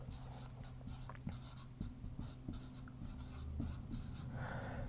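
A marker writing on a board, quick squeaky strokes in short bursts over a low steady hum, close and fairly quiet, with no talking.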